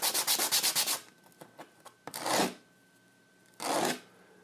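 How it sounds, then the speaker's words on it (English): Edge of a wooden fidget spinner button sanded by hand with 100 to 150 grit sandpaper: a quick run of rhythmic rasping strokes, then scattered light scrapes and two longer, slower rubs, close up. "it's probably 150 or 100 grit sandpaper"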